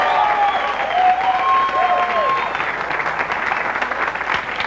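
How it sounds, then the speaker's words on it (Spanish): Studio audience of a 1998 Peruvian TV variety program gives sustained applause, dense clapping holding steady for several seconds with faint crowd murmur and some tonal whistling early on. "aplausos fuertes para ellos."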